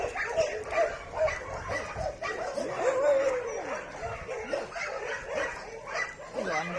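Small dogs yip, whimper and bark in quick, overlapping bursts, fairly close, with a busy background of other noise.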